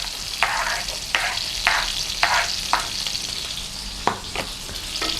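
Crushed garlic sizzles steadily in melted butter in a pan, a close, continuous fry with several sharp scraping stirs punctuating it at irregular intervals, no voices.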